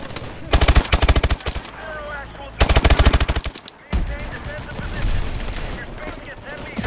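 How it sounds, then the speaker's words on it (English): Bursts of rapid automatic gunfire in a Call of Duty: Advanced Warfare campaign mission, two loud sustained volleys followed by more scattered firing and game sound, with a voice talking faintly in the mix. "Suppressing fire."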